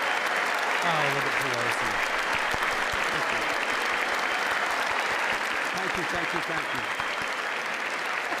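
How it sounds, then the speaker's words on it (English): A large audience at the State of the Union claps continuously in a sustained, full roar of applause while voices talk over it in the foreground. "What are they clapping for?"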